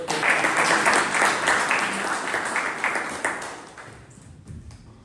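A Toastmasters club audience at a morning meeting applauds a member called to speak, a dense wash of many hands clapping at once that slowly thins and fades toward the end.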